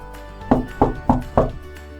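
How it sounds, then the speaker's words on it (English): Four knocks in a steady rhythm on a door by a man delivering a big brown box, close and crisp with nothing else heard. "The man knocks on the door."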